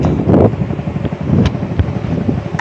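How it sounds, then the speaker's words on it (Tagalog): Loud, gusty wind buffets the microphone in rumbling bursts on a rainy, overcast day in a remote forest in Quezon Province, Philippines, with no voices. "Tapos medyo malakas yung hangin."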